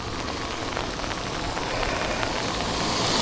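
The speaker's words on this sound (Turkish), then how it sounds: "Tatlı bir yağmur var." Steady gentle rain patters on surfaces outdoors, a soft continuous hiss that swells slightly toward the end, with no voices.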